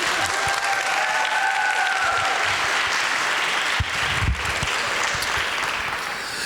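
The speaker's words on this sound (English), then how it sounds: "A big hand of applause to the Sápmi team." Dense, steady applause from a large crowd at the opening ceremony of the 2024 CONIFA Women's World Football Cup, welcoming the Sápmi team. It fills the whole stretch at an even level with a brief louder swell near the end.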